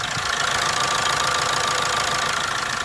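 An Isuzu 1.9 diesel engine idles with white smoke and will not rev up, giving a loud, steady, rough clatter that holds unchanged throughout, with no voices over it.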